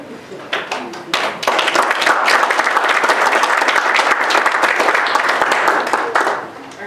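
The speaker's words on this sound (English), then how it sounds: "I'll give them a healthy round of applause." Sustained applause from an audience, rising quickly to a steady dense clatter of many hands, then tapering slightly near the end.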